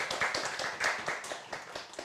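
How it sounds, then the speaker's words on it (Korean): Small audience at a literary anniversary event in Jeonju claps in a light, sparse round, with distinct individual claps in an uneven rhythm, fairly quiet and close. "네, 박수"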